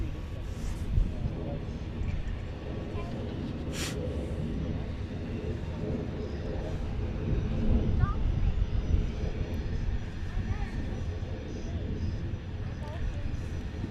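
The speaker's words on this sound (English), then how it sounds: "7 years old, this beautiful little Cessna." A small NetJets-operated Cessna private jet at London Luton Airport gives a steady, continuous engine roar from some distance, swelling slightly midway, with a voice talking over it.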